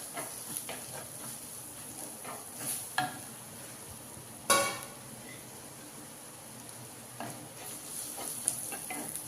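Chopped onion, ginger and garlic sauté in a pan with a faint steady sizzle. A few sharp clinks of stirring stand out, with a brief honk-like tone near the middle.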